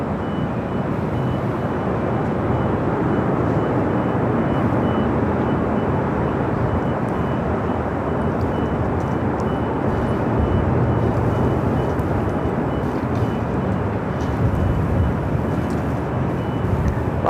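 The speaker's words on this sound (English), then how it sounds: "Avianca A320 Neo," An Avianca Airbus A320neo jet takes off from runway 24 left at LAX with a sustained, loud, broadband engine roar that holds steady throughout.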